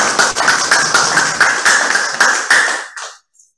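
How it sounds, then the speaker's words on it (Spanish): Audience applause for a speaker at a talk on class-based trade unionism, a dense burst of hand claps lasting about three seconds before cutting off abruptly, with one faint clap trailing after. "recibamos con un fuerte aplauso al señor Miguel Bustos Mauleón"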